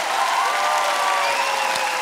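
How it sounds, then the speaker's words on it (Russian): Studio audience applause at a comedy league charades-style battle show, steady dense clapping filling the whole stretch at close range with no talking over it. "Браво, браво, ваши аплодисменты."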